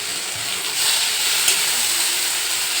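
Spice paste of ginger, tomato, garam masala, green chilli and cumin cooking in a pan for a vegetarian curry, a loud close hissing sizzle that holds steady with slight stirring movement, no talk over it.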